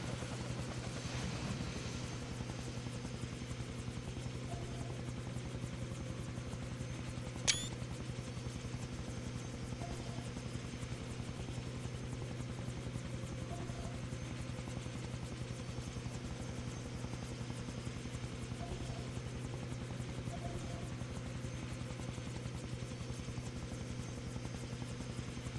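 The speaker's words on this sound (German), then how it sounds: "Ein Heli, das gefällt mir nicht" A helicopter's rotor thrums steadily and continuously throughout in Far Cry 3, a constant low droning hum with one brief sharp click partway through.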